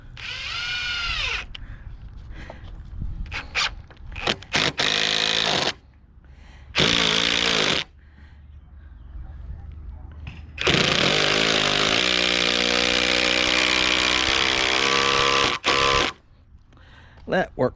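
A power drill drives screws into wood on a custom-built playhouse with a loft, without pre-drilling: several short whirring bursts, then a long sustained run, loud and close, with a voice heard speaking.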